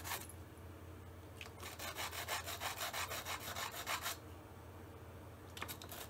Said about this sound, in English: Now I'm just going to deburr the edges on some 180